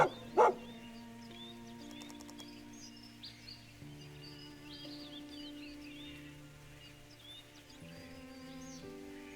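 A wary dog in the video game Perseverance gives a single sharp bark near the start, then falls quiet under soft, sustained ambient music tones and faint chirps.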